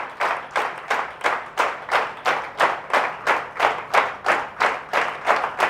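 Seminar audience clapping in steady unison, a strong regular beat of about three claps per second, loud and close, with no talk over it.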